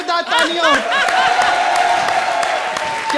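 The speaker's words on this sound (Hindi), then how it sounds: "हमारी सेलिब्रिटी के लिए जोरदार तालियां।" A studio audience at the Comedy Circus comedy show applauds and cheers, loud and close, with a voice speaking over the start of the clapping.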